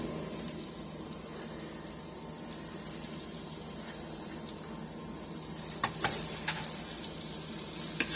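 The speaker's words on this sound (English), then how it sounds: "I have my butter melting. Let me go ahead and add my garlic and my red peppers and onions." Garlic, red peppers and onions sizzle steadily in melted butter in a pan, a dense continuous crackle with occasional sharper pops and stirring clatter, close and without talk.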